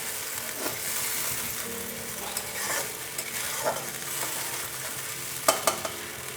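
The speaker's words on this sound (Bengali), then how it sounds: "পেঁয়াজটা একটু কাঁচা গন্ধ যাওয়া পর্যন্ত পেঁয়াজ রসুনের আদাও আছে এর মধ্যে এই গন্ধটা যাওয়া পর্যন্ত একটু কষিয়ে নিতে হবে" Onion, garlic and ginger fry in a pan for a Bengali fish curry, giving a steady soft sizzle with occasional scrapes and clinks of stirring, close and moderately quiet with no talk.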